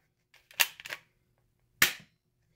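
A Chinese knock-off M1911 toy blaster fires rubber bullets: a quiet click followed by a sharp snapping pop, then a second crisp pop about a second later, close and dry.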